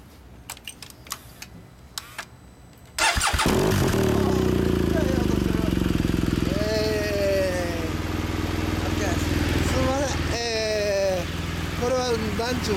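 After a few soft clicks, a 2009 Triumph Bonneville SE with an Akrapovič exhaust starts and idles loudly and steadily close by, revving up several times with rising whines.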